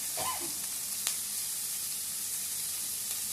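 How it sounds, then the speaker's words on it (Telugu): Onion pieces sizzle and fry in hot oil over tempered lentils for a ridge gourd and milk curry, a steady close hiss throughout with a brief sharp crackle early on. "ఉల్లిపాయ వేస్తాం."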